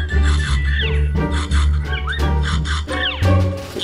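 Sawing with a saw in the video game Hello Neighbor: loud repeated rasping strokes, roughly every second, scraping back and forth close up, with game sound effects mixed in.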